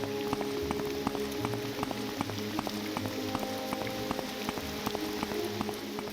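Rain falls in the video game Morrowind, a constant soft hiss of drops over a low ambient game drone with faint periodic ticks, heard alone without talk.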